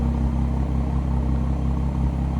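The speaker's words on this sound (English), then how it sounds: "it isn't too overly loud with the performance exhaust and the sports cap, but it does make a nice little burble" A BMW M140i Shadow Edition with an M Performance exhaust and sports cap idles with a steady, deep low burble, close and continuous with an even pulsing rumble.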